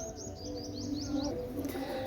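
Pigeons at a breeder's loft give soft coos with a few brief chirps, close and fairly quiet over a low background hum, with no talking.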